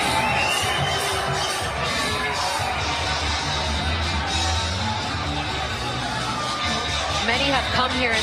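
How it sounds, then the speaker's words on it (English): A big boxing crowd at Madison Square Garden, there for Josh Taylor, keeps up a constant loud hubbub of cheers and yells, while a commentator speaks over the din the whole time. "you can hear the crowd now"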